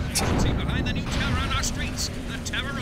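Sustained barrage of weapons fire pounds a tower in Destroy All Humans!, with crackling blasts and sweeping laser-like zaps layered over a dense, rumbling din, while voices speak beneath the chaos.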